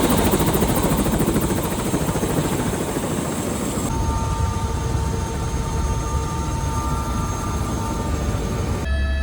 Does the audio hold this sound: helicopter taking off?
yes